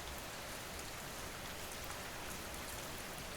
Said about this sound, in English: the rain kept falling, soft, steady